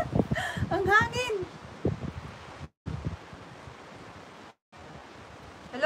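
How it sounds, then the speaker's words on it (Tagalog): Strong wind gusts outdoors, a rushing, buffeting roar across the microphone that runs throughout, with brief dropouts, while someone talks over it at the start. "Grabe ang hangin dito."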